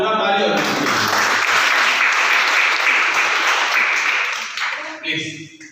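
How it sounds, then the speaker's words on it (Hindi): A seminar audience claps loudly for a child's achievement, a dense burst of applause that holds steady for several seconds then tapers off as a voice begins speaking. "तो एक बार जोरदार ताली हो"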